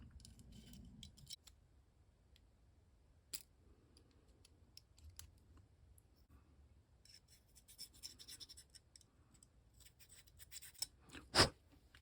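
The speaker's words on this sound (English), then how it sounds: "I'm going to take out the trigger and just make sure that there's nothing binding in there" Quiet, close small mechanical work on an AGD X-frame paintball marker as its trigger is taken out: sparse metallic clicks, light scratches and taps of parts and tools, with one sharper click near the end.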